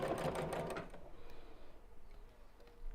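A sewing machine runs briefly while stitching a biscornu pouch, a close rapid whirring burst for about a second that stops, followed by faint clicks and handling noises.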